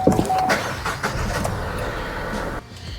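A Vauxhall Viva engine starts after an oil change and runs steadily up close with a loud, rough mechanical roar, then falls quieter near the end.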